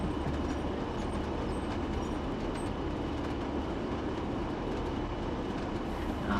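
A train on the Northern Trans Pennine line runs through a station without stopping, giving a continuous rumbling roll with faint rail clatter at an even level and no voices.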